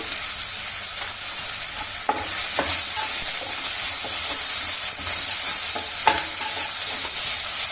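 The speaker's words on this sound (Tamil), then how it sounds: "இப்போ வெங்காயம் நல்லா வதங்கிடுச்சு" Sliced onions with a pinch of salt sizzle steadily in a hot pan for masala egg rice. A utensil stirs and scrapes them now and then, with no voices.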